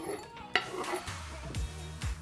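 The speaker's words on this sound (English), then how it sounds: "you're going to add your courgettes in there, and then it's your dish, so you're going to give it the final stir" Spoon stirring a sausage casserole with courgettes and passata in a pan, with a few scraping strokes and a sharp clink of utensil against the dish, close and moderately quiet, no talking.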